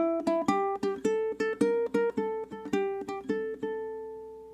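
A ukulele picks a 12-bar blues line in single notes, a quick run of about a dozen plucked tones in a lilting rhythm, clear and close, with the last note left to ring and fade.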